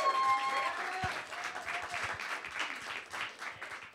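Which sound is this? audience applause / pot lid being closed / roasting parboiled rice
audience applause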